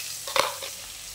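Finely chopped onion with a bay leaf frying in hot oil in a pan, a short crackling sizzle with a sharp stir-like burst near the start, close by and then fading to a soft hiss.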